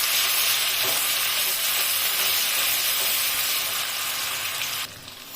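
Ginger, garlic and green chilli paste sputters with cumin in hot oil for egg pulao, a loud, dense, close sizzle that holds steady and then drops away near the end, with no voices.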